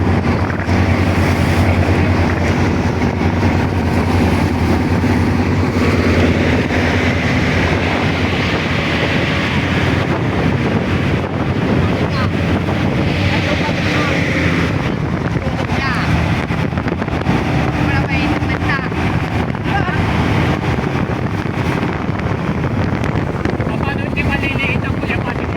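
A boat engine drones steadily on a sea trial with a newly fitted propeller, continuous and fairly loud under heavy wind buffeting and splashing water, with voices talking over it.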